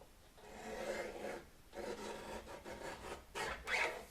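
Paper for a wedding reception menu is trimmed in several rasping, scraping strokes, each about a second long, separated by brief pauses, quiet and close.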